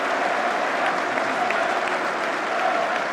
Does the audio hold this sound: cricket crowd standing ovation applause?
yes